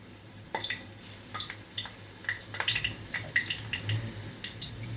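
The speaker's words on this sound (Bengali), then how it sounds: "তেলটা গরম হয়ে গেছে, আমি এখন ধোকাগুলো দিয়ে দিচ্ছি" Dhoka lentil cakes fry in hot oil, giving bursts of crackling, spitting sizzle that start suddenly and continue unevenly, close by, over a low steady hum.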